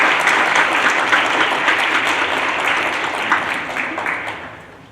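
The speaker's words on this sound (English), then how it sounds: "Hey, students, give our parents a round of applause," Students in a school auditorium at a senior scholarship recognition ceremony give a sustained round of applause, a full steady patter of many hands that gradually fades toward the end.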